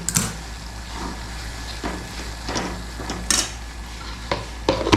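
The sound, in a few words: wok rattling on the stove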